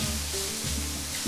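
Shimeji mushrooms hit a hot pan with meat and fry with a steady, dense sizzle and crackle, close and continuous throughout.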